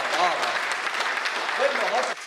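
Applause from a crowd at a Hindi poetry recital, dense and steady for a couple of seconds, with voices mixed in over the clapping.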